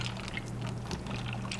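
A pound of uncooked pasta poured into a pan for a chicken Alfredo bake, heard as a brief, steady rushing patter with no talk.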